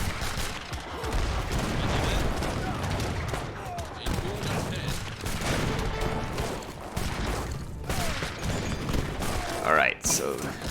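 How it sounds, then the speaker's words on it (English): Cannon fire in an Age of Empires III battle, continuous booms and volleys of gunfire rolling through a busy battlefield mix, loud and sustained, with a voice talking over it. "I've got my own cannons now too."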